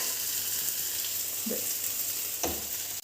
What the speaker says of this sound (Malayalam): നമ്മൾ അരച്ച് വെച്ച അരപ്പ് ഫുള്ള് ഇടുകയാണ് കേട്ടോ.